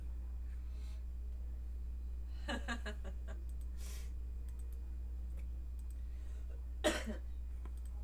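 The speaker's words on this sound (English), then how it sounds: "Oh, I coughed." A person coughs a few times while handling boxes at a shipping table, short rough bursts near the start and a louder single cough near the end, over steady room hum and some faint clicking.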